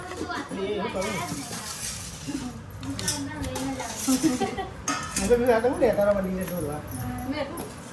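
Dishes and steel plates clinking as a home-cooked meal of potato and vegetable curry is served at a family dinner, with repeated close clatter and clinks running under lively conversation.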